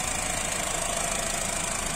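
A newly purchased engine, just started, idles at a steady, even putter with a slight knocking pulse, close and continuous with no voices over it.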